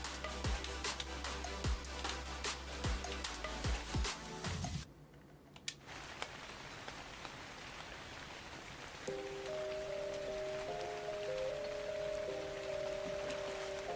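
Stormy rain in the video game Genesis, a steady hiss of rainfall with sharp clicks and taps over it, a sudden cut, then continuing wet noise joined by a soft sustained musical tone.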